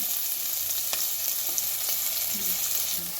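Onions sizzling steadily in a pan while a fish dish is cooked, with a few faint clicks of stirring over the constant hiss. No one speaks.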